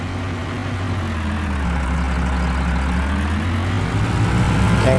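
An Indian 4x4 tractor in Farming Simulator 20 strains to pull a heavily loaded trolley, its engine a continuous low, heavy drone that rises slightly in load near the end, with no voices.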